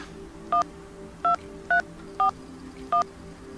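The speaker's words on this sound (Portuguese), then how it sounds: "Eu vou ligar pra Ana Clara" Telephone keypad dialing a number: five short, clear touch-tone beeps at fairly even intervals, each standing out over a faint, steady background hum.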